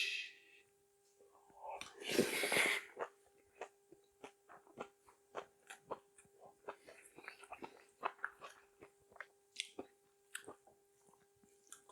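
Close-up eating and chewing of bibimbap mixed with chard kimchi, vegetables, gochujang and sesame oil; a burst of handling noise, then a steady run of soft, wet, rhythmic chews and smacks, quiet and near, with no talking.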